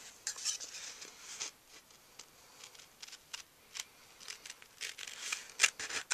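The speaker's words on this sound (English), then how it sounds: "Grab my snips, and we are just going to trim away our excess paper." Snips trim the excess paper from a folded flap card, giving a series of soft, quick, close snipping cuts in an irregular rhythm over a quiet background.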